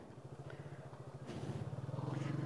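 A motorcycle engine idles and revs at a steady low rhythmic throb, moderately close, rising slightly in loudness toward the end, with a faint voice in the background.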